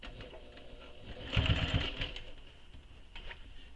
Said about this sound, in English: you're going to top stitch around the entire bag